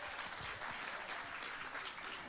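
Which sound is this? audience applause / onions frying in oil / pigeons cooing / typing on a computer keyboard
audience applause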